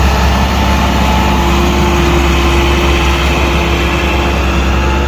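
A tractor stuck badly in mud runs its engine hard, a loud, steady low drone that holds without a break from start to finish, with no voices over it.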